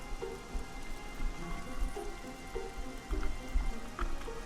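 Steady rain falls in the fantasy game Oblivion, a dense continuous hiss of drops pattering on a surface with scattered louder drips, alone with no voices.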